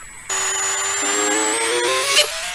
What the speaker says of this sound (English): I'm drilling 8 new holes for the wire basket.